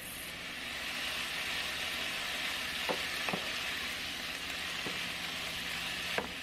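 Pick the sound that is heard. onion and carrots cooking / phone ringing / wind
onion and carrots cooking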